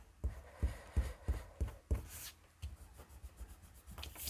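An eraser rubs back and forth over paper while making a pop-up Christmas album page, a run of soft scrubbing strokes close up, then quieter irregular rubbing.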